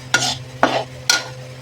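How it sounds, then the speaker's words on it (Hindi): A ladoo mixture being roasted in a pan, three separate scraping stirs spaced about half a second apart, close and moderately loud over a low steady hum. "मैं इसको भून रही हूँ।"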